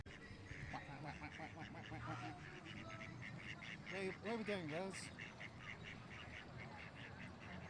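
Ducks quacking in a run of short nasal calls, fairly close and prominent in the middle, over a bed of outdoor crowd noise with a person talking.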